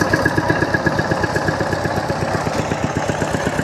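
A farm tractor engine idles close by at a rural Lao village where residents haul water while building a school, its loud, steady low chugging pulsing in a fast, even rhythm throughout.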